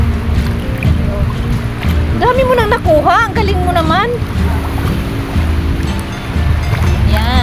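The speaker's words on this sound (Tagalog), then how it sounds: "Lakas naman ng alon eh." Strong surf pounds a sandy beach at Dahican, Cabadbaran, Agusan del Norte, a steady loud wash of waves and wind rumble running throughout, with someone talking and exclaiming over it in the middle.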